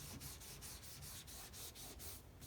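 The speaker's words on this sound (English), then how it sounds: "rub it in really good" A cloth rubs linseed oil into faded car plastic, a steady, close, continuous scrubbing with rhythmic back-and-forth strokes, alone and fairly quiet.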